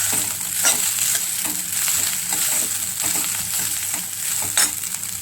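Chitranna, a South Indian rice dish, being stirred in a hot pan, with a steady sizzle and repeated scraping strokes of a spoon through the rice, close up and with no talking.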